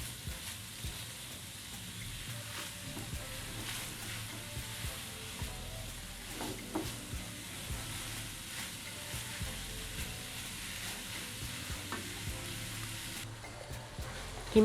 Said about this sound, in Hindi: और हम इसको अब फ्राई करेंगे कीमे को।